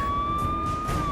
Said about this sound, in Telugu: అంబులెన్స్ సౌండ్ వినిపించు తండ్రి